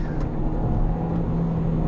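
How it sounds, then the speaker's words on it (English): A Hyundai Elantra Turbo engine drones steadily at close range, low and strained under throttle, with a constant rumbling hum throughout and no voices. "Like all Hyundai engines does, they make"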